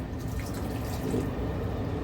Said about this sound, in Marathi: हे पाणी याच्यात आपण गाळून टाकते बघा